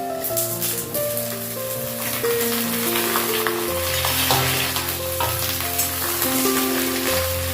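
Eggplant goes into a pan of golden frying potatoes, setting off a loud, continuous sizzle and crackle of hot oil, close up and steady with occasional stirring.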